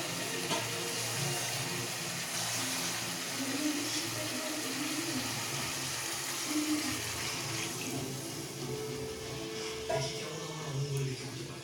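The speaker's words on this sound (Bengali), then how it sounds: "জাস্ট অল্প একটুখানি গরম জল দেবো, দিয়ে আর ঢেকে দেবো।" Steady rush of water poured into a pan of half-cooked frying chicken, continuous hiss and splash, close, lasting without break.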